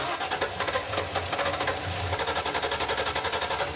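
A freshly started car engine runs with a rapid, rough, knocking rhythm despite a faulty, dripping fuel line. The chugging pulses are steady and close for several seconds, with no voices.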